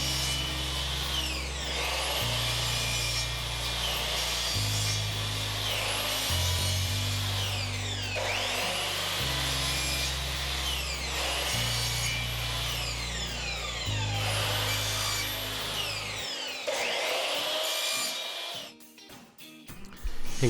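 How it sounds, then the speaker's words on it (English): A power saw cuts miters in wood trim for a curtain cornice, several loud whining cuts with motor spin-up and wind-down between them, then quieter handling noises at the end. "So let me go ahead and cut those miters to get this put all the way around it."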